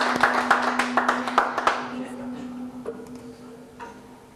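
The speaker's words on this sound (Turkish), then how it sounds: "Ben buna güzel bir alkış isterim şöyle." A Turkish television studio audience claps in a quick, even rhythm for under two seconds, then the clapping dies away into a low, steady hum with a few scattered late claps.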